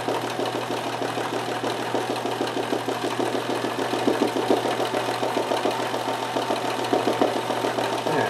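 A Kenmore 158.1914 sewing machine stitches steadily for free-motion embroidery, a close rapid mechanical chatter over a continuous motor hum with no voices.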